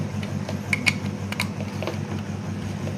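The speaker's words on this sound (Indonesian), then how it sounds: "Oke, ini udah nyala dan kipasnya juga udah nyala nih" A small cooling fan fitted to an IndiHome set-top box runs with a steady, low mechanical whir. A few light clicks sound near the start.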